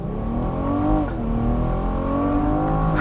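A 2021 BMW M440i convertible accelerating hard, its engine rising in pitch through the rev range with a shift partway through, loud and close from inside the car.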